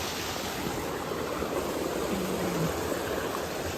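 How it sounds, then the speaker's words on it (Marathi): The Bokadkada waterfall near Mumbai flows in a steady, broadband rush of falling water that holds even and fairly loud for the whole stretch, with no voices. "तो बघा आपल्याला दिसतोय बोकडकडा वॉटरफॉल"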